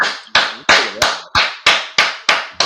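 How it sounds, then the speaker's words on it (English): A small group claps in unison, eight sharp, evenly spaced hand claps in a steady rhythm, close and loud. "Everybody clap it up."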